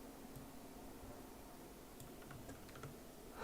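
Quiet, rapid clicking of computer keyboard keys during game development work, irregular bursts of keystrokes with no talking.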